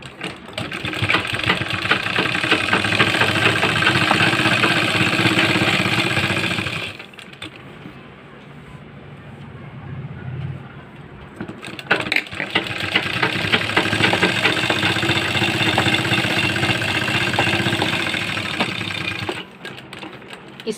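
A sewing machine stitches a kurti collar in two long, steady whirring runs with a dense rapid chatter, close and loud, separated by a brief quiet break.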